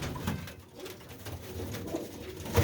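Newly released, colour-marked pigeons in a coop at Bhaini Kalan near Malerkotla give soft, low cooing calls, a few throaty murmurs heard close and quiet without talk.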